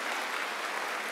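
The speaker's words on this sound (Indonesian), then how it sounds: "Tepuk tangan bagi Allah kita." Church congregation applauding together, a steady dense wash of clapping at moderate volume with no voices over it.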